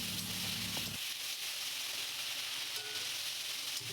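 Ginger and cumin paste sautéing in a pan for a Bengali fish curry, a steady bright sizzle and hiss with a low stirring thud at the start, with no talking.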